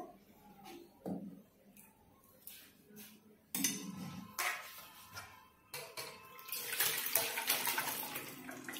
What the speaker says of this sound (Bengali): এবার ছানাটাকে ভালো করে জল দিয়ে ধুয়ে নেব।